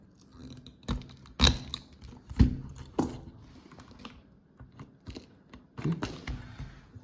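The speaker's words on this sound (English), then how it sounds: "if you have this one aligned properly, you just go ahead and punch, punch, punch." Wires being punched down into a network patch panel with a punch-down tool, a series of sharp, separate clicks and snaps at irregular intervals, close and fairly quiet, with no talking.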